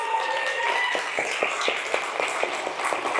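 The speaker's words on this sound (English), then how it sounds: "So just like a round of applause" A crowd at a women's-only jiu-jitsu grappling tournament applauds loudly and continuously, with distinct hand claps popping through a steady wash of noisy hall ambience.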